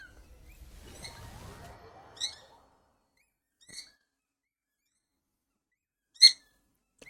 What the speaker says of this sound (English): I might have to mute because the birds are singing.